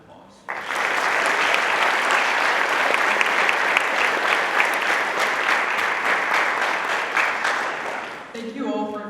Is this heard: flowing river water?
no